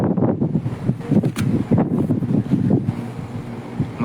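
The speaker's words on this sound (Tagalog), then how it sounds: "Mahangin talaga, mahangin." Strong wind gusts buffeting outdoors where fish are laid out to sun-dry, a loud continuous rumbling roar with fluttering bursts, close to the microphone.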